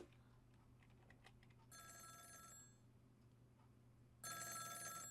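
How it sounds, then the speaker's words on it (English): A telephone rings in the video game Ghost Trick: Phantom Detective, two bursts of bright electronic trilling separated by a short pause, over quiet background game music. "Telephone is ringing."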